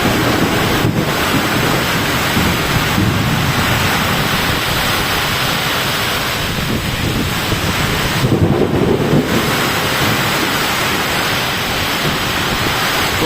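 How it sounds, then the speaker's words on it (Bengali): A violent storm batters a riverbank, wind roaring and buffeting the microphone nonstop while heavy rain hisses underneath, with occasional stronger gusts. "দেখেন প্রচুর ঝড় বৃষ্টি, ভয়াবহ ঝড় শুরু হয়েছে।"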